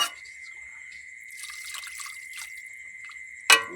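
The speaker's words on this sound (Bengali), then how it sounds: "একটু কম করেই জলটা দিলাম।" Water trickles and drips steadily into a pot of cooking meat, a thin continuous pouring stream that brightens briefly before a sharp splash-like burst at the end.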